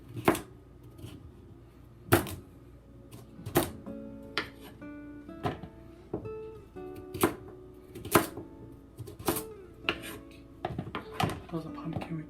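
A knife chops through fresh butternut squash on a cutting board in sharp, evenly spaced thuds about once every second or two, with a person talking quietly underneath.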